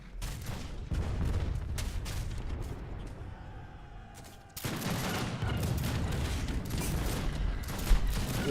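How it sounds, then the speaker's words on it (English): Mortars in Age of Empires 3 fire in a stream of booming shots and crackling gunfire, with a quieter lull midway before a loud, dense barrage returns. "I'm just gonna show him with the mortars from safety back here."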